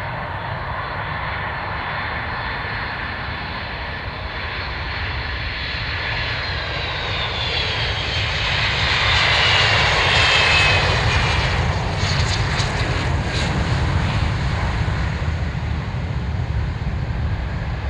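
A Korean Air Boeing 747 landing at Prague Ruzyně on runway 24, its jet engines a steady loud roar that swells and peaks near the middle as the airliner passes, with a whining turbine tone over broadband rumble.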